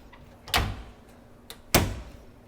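Metal door on a custom stainless steel kitchen range hood opened, giving two distinct sharp knocks or bangs about a second apart, close and fairly loud against a quiet room.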